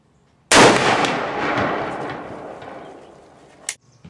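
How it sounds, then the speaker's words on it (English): One sharp, loud report from a 30-06 rifle firing a 150 grain bullet outdoors, ringing out and decaying for about three seconds, followed by a faint metallic click. "now we're going to shoot the 30-06 with a 150 grain bullet"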